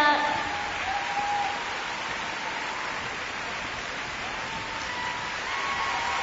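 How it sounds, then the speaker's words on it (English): Arena crowd applauding the Canadian team after a free dance at the 2013 Four Continents figure skating championships, a steady, distant wash of clapping that stays soft and even throughout. "Kevin Reynolds leading the applause there for the Canadian team."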